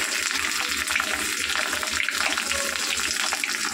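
Ginger and chili paste hits hot fried onions in a pan, giving a steady, loud hissing sizzle that runs unbroken throughout.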